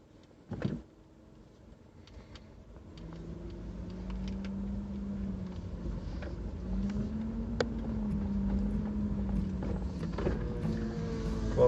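Interior road noise of a 2009 Subaru Outback on the move: a steady low engine hum with a slowly rising, wavering drone as it gets under way, a sharp thump near the start, faint rattles throughout, no talk.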